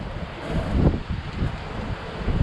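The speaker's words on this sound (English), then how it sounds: "There's the wind coming now." Strong wind gusting around a sailing boat at sea, about 29 knots, as the yacht heads out from Mindelo with its engines eased off; a steady broadband roar and buffeting against the microphone, swelling midway, with no voices.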